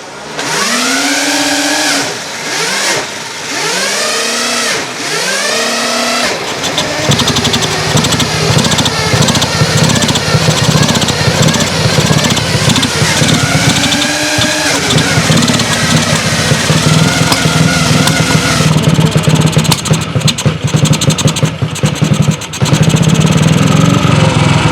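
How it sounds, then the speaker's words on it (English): A big-bore motorcycle engine in a workshop sputters through several revving start attempts, then catches and runs loudly. It revs repeatedly with a rough, busy mechanical clatter that carries on to the end. "Let's see if we can start a bike now."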